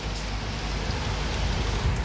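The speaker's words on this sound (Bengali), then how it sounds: "অনেক বৃষ্টি হচ্ছে।" Heavy rain pours outside a home, a thick, steady wash of noise with no pauses and no voices.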